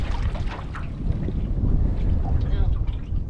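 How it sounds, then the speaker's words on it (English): A canoe paddled across open water near alligators at Myakka State Park, Florida, with steady wind buffeting the microphone and soft water washing underneath throughout. "we're gonna paddle this canoe as close to the gators as Sam wants to get"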